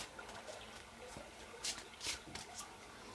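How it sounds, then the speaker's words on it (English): Soft papery riffling of cards being shuffled, a few quick bursts of crisp flutter against a quiet room background, close and fairly faint. "when I'm shuffling this"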